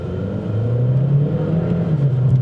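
A 2012 Chevy Cruze Turbo pulls away from a stop, its engine making a steady, close drone that climbs gently in pitch for a couple of seconds, with no talking over it.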